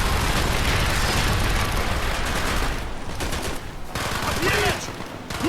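Sustained gunfire in the Call of Duty Black Ops campaign, dense overlapping rifle and machine-gun bursts crackling continuously and loudly, with shouting voices faintly beneath the battle.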